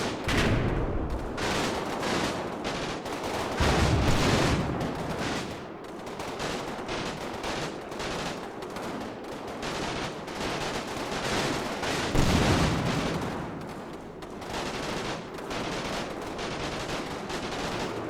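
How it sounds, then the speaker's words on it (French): Gunfire in the war strategy game Combat Mission: steady, loud, overlapping bursts of rifle and machine-gun fire with heavier booming shots mixed in, continuous throughout with no pauses and no voices. "Ça tire aussi à côté, à l'ouest là."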